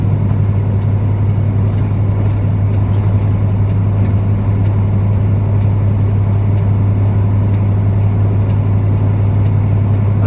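A semi truck engine labors up a hill with a loud, steady, close-up diesel drone that holds a constant low hum throughout.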